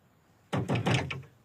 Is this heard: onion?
no